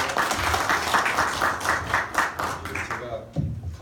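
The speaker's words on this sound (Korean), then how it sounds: "여러분 큰 박수로 모시겠습니다." An audience at a debate forum on repealing the Chungnam human rights ordinance claps to welcome a speaker, brisk rhythmic applause close by that thins out and fades near the end.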